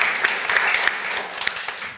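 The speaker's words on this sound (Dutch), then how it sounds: "Groot applaus voor Simon" Sustained audience applause in a lecture hall after a talk by philosopher Simon Gusman, a loud, dense wash of clapping with a few sharper individual claps standing out, continuing evenly throughout.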